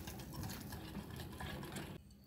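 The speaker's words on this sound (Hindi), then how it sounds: "अब सब चीज़ों को अच्छे से मिक्स कर लेंगे।" A spoon stirs chocolate cake batter for an eggless, oven-free cake, with vinegar just added, in a steady scraping, sloshing rhythm that stops abruptly near the end; quiet and close.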